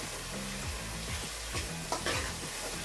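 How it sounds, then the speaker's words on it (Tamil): Steady sizzling of tomatoes sautéing in a pan for vada kulambu, with occasional scrapes and clinks of stirring. "தக்காளியும் இப்போ வதங்கட்டும்."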